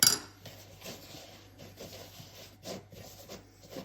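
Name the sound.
mixing homemade snow of shaving foam with a spoon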